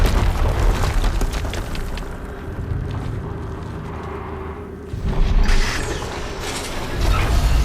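Heavy mechanical grinding and creaking as a turret rotates in the video game Horizon Zero Dawn, a loud continuous churn with low booming rumbles that swells again near the end, no talk over it.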